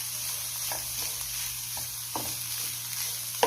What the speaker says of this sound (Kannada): ಒಂದೆರಡು ನಿಮಿಷ ಫ್ರೈ ಮಾಡಬೇಕು. ಈಗ ಇದರಲ್ಲಿ ಸ್ವಲ್ಪ ಕ್ಯಾಪ್ಸಿಕಮ್ ಹಾಕ್ತಾ ಇದ್ದೀನಿ.